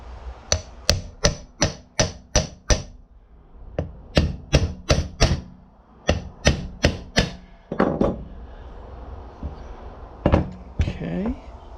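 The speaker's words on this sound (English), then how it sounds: "I might just take a hammer, just lightly tap it." Light hammer taps on a part being seated into a Saginaw power steering pump during a rebuild, a close series of sharp metallic knocks in quick groups of four to six with short pauses, then handling clatter and faint rustling.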